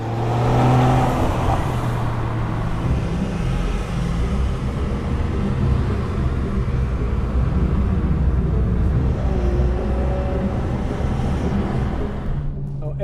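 A Ferrari 812 Superfast with its V12 engine drives on the road, a continuous loud rumbling drone that stays steady and close throughout, with no talking over it.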